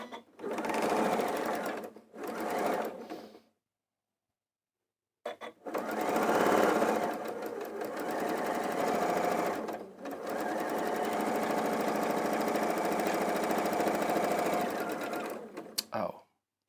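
A sewing machine stitching a quilt block runs in loud, rapid bursts, one short run, a pause, then longer continuous stretches, with brief gaps between them.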